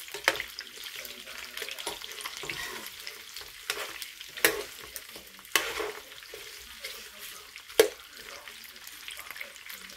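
Chicken cooked with 7up fries in a pan with a soft, steady sizzle broken by several sharper clinks and scrapes of stirring, fairly quiet overall; no talk is heard.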